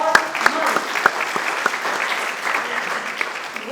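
An audience claps at a political speech, with scattered sharp hand claps and a steady patter of applause filling the room, moderately loud throughout.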